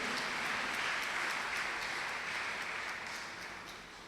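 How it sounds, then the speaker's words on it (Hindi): Dense applause from a crowd at a church service, steady and broad, gradually fading a little toward the end. "भरपूर तालियों के साथ जी।"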